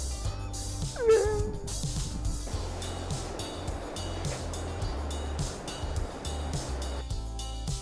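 Sea lions at La Jolla Cove in San Diego give repeated short, hoarse barks and yelps at close range over a steady wash of surf.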